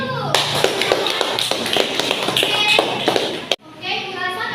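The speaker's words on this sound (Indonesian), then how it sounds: "Kita beri aplaus dulu." Children in a classroom applaud together, a dense burst of close, rapid hand claps lasting a few seconds before cutting off abruptly, followed by quieter room murmur.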